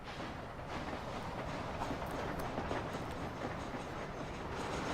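Train rolling on rails in the Red Dead Redemption video game, a steady rhythmic clickety-clack and rumble at moderate distance, continuous and quiet.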